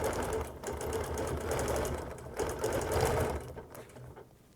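A sewing machine stitching steadily for free-motion quilting of a daisy design, its needle running in a fast continuous rattle up close that speeds and slows slightly, with no talk.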